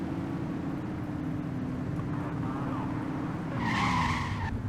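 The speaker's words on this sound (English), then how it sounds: "Oh, blue car speeding." A blue car speeding and skidding on a highway in The Precinct video game, a steady engine drone with tires squealing more loudly near the end.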